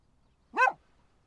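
A single short dog bark, mid-distance and fairly clear, rising out of quiet outdoor background in a field during metal detecting.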